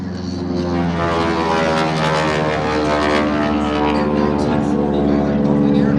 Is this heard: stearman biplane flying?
yes